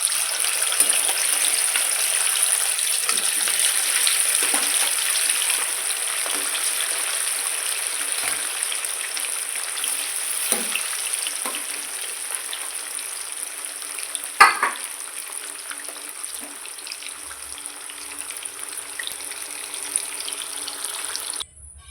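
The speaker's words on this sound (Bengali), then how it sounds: "মাছগুলো এবার ভেজে নেবো একটা একটা করে" Pieces of rohu fish fry in hot oil in a wok, giving a continuous close sizzle with occasional soft clatters and one sharper knock partway through.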